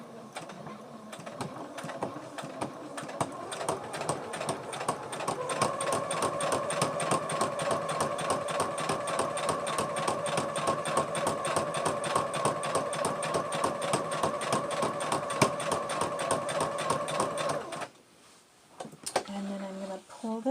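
An electric sewing machine runs steadily, stitching a quarter-inch seam around the mouth cutout of a fabric face mask, a fast even whirr of needle strokes that carries on for most of the stretch before stopping, followed by brief handling noises.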